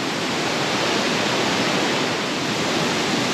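Minnehaha Falls in Lakemont pours in a steady, dense roar of falling water, close and constant with no breaks or other sounds.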